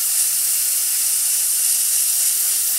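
An airbrush sprays dark green Tamiya XF81 paint onto a 1/48 Tamiya Spitfire Mk.1 model, a steady close hiss that holds evenly throughout without any voice.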